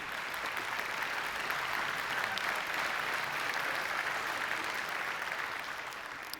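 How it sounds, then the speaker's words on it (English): Sustained audience applause fills a large hall at EVE Fanfest 2012, a dense, steady wash of many hands clapping that holds throughout and tapers slightly at the end. "Exactly, you applauded a little too soon."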